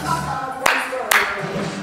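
Two sharp hand claps, spaced about half a second apart, during a morning exercise routine, standing out over a soft background of music.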